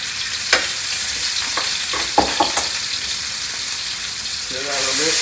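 Organic homegrown minced garlic hits warmed oil in a pan, a steady frying sizzle with a few scraping stirs and knocks, growing louder and fuller near the end.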